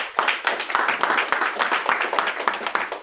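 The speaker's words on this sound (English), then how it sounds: "Shall we clap for that?" Seminar audience at a leadership talk applauds with sharp, distinct hand claps in a fast, uneven patter, moderately loud and steady from start to end.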